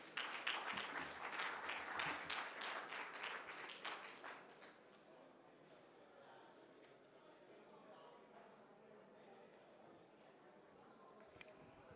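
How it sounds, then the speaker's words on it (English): A conference audience at Capacity Europe 2022 gives a keynote speaker a warm round of applause, loud dense clapping for about four seconds that fades into quiet room noise with scattered faint claps. "please give him a big warm round of applause"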